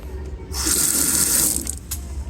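Kitchen faucet running in a rental event place, a bright rushing stream that starts abruptly, holds for about a second, then cuts off, leaving faint trickles and quiet room tone.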